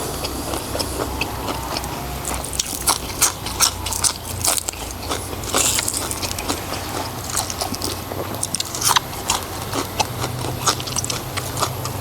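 Someone chews Isan beef sausage along with raw garlic and fresh chili, producing close, continuous wet crunching and biting sounds with no talk.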